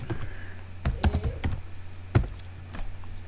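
A computer keyboard is typed on in short, sparse bursts of crisp key clicks, with a couple of isolated presses between them, close and quiet, with no speech, while working in Lightwave 3D.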